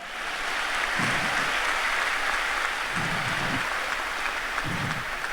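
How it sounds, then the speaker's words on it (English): A high school commencement crowd applauds the graduating class, a broad steady wash of clapping that fills the whole stretch, with a few low murmurs rising now and then. "I think we should give the whole Gopher Nation a round of applause for that."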